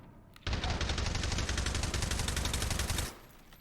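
Sustained automatic gunfire from an enemy patrol in a video game erupts suddenly and loudly, holding as a dense rapid rattle for about two and a half seconds before cutting off, with no talk over it.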